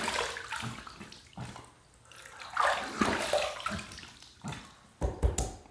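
Water splashes against a face while rinsing after a shave, several irregular bursts of splashing and dripping close by with quiet pauses between them.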